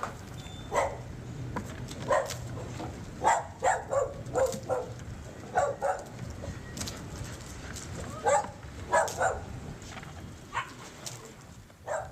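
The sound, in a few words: dogs barking, locked up in a building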